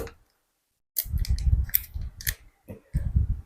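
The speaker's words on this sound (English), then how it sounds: "I'm going to be opening this up with my scissors." Scissors snip open a collagen supplement packet up close, a quick run of crisp cuts and rustling foil bursts separated by short pauses after a silent start.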